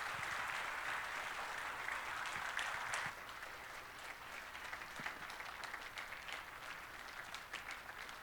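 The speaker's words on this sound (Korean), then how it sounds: "박수로 한번 맞이하겠습니다." A church congregation claps to welcome a departing pastor at a Wednesday evening service, steady roomy applause that continues throughout, easing slightly partway through.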